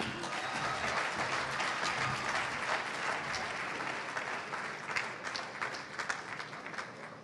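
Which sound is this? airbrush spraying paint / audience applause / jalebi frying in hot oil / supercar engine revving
audience applause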